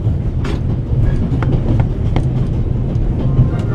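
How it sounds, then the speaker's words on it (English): Train rumbling along the rails in The Raven Remastered, set aboard the Orient Express: a steady, loud low rumble with faint clicks and rattles throughout, heard from inside a carriage with no talk. "The noise on this train is driving me crazy."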